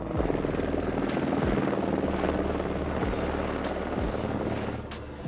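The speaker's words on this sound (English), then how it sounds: "So above us is the first rescue helicopter we've seen so far on the trip." A rescue helicopter's rotor beats steadily overhead on the Everest Base Camp trek near Lukla, Nepal, loud and continuous for several seconds, with no voices.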